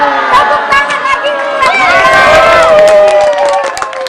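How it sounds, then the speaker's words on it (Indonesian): Crowd cheering and shouting at an outdoor stage show, loud and close, with excited voices rising and overlapping throughout and some scattered clapping beneath. "Tepuk tangan lagi."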